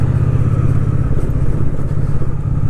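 Old motorcycle rolling into a parking lot, its engine a loud, close, throbbing low rumble with steady fast firing pulses throughout.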